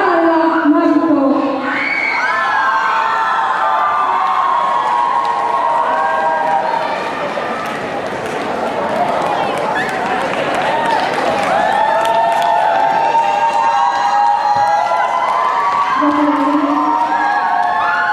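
A large crowd applauds and cheers for a cosplay performance at an anime Christmas convention awards ceremony, with sustained clapping, shouts and whoops that stay loud and dense throughout, plus some voices rising above the noise.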